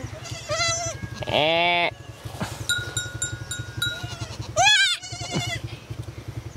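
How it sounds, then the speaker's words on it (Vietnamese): A baby goat, two days old, bleats several times in short wavering cries at a rural village, close and clear, with a steady engine hum beneath and a brief spoken word. "Nhìn con dê con thích quá."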